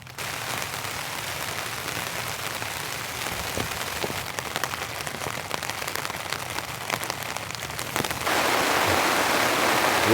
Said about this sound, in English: Whoa, it's pouring down now.